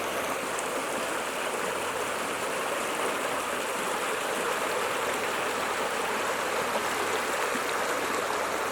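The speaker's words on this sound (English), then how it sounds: "down at Beresford Dale, over the River Dove." The River Dove at Beresford Dale flows in a steady, close rushing burble of water, constant throughout with no talk.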